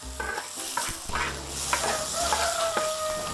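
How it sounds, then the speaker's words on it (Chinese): Pork sizzles in a wok after eggs have been fried, with the spatula scraping and tossing in quick, uneven strokes over a constant hiss, close and alone without talk. "煎好鸡蛋以后，把这个5号肉下入锅中。"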